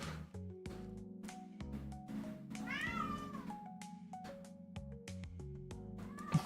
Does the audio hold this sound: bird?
no